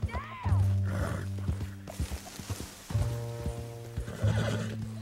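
A horse in the Red Dead Redemption 2 video game whinnies loudly and repeatedly over steady clip-clop hoofbeats, with game music and effects underneath.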